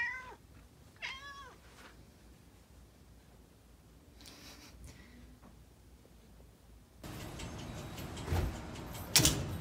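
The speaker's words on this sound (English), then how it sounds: "Oh, the cat is meowing!" A cat meows a few times, faint and a little distant, early on over quiet background, followed by louder rustling and knocking noises near the end.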